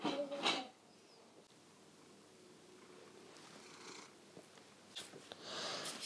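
A cat purrs softly and close up in a quiet room, a low, steady rumble broken by a few brief rustling bursts at the start and end.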